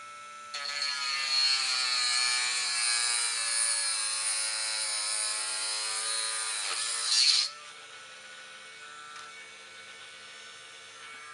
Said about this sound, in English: take my Dremel tool and cut right down that recess